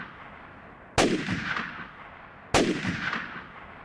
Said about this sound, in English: The roar of the gunshots faded to silence.